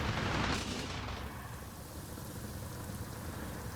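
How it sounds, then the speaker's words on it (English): Rain in the Gran Turismo 7 racing game during an online league race, a steady hissing downpour with a louder burst at the start that then settles into an even, continuous patter. "Ooh, we can hear the rain"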